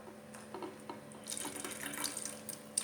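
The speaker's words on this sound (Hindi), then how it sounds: "इसमें हम पानी मिलाएंगे" Water runs from a tap into an empty bottle to mix a homemade organic pesticide, a steady faint splashing stream that grows fuller and brighter partway through, with no talking.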